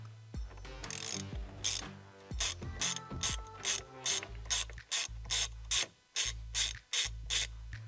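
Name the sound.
ratchet with T50 Torx bit loosening steering wheel bolt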